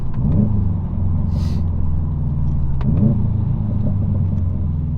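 Deep rumbling engine note of a 2020 Subaru STI revving, a steady low throb with a couple of quick blips in pitch, heard loud and close with no talk.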